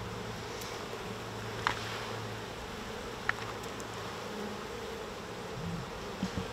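Honeybees buzz around an open hive in a steady, soft, continuous drone, with a few faint clicks and knocks from handling the hive frames and no talking.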